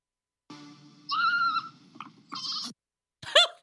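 A goat from the Shadow and Bone series bleats in several close, wavering calls, a long quavering cry followed by shorter bleats and a final sharp one, with no talk over it.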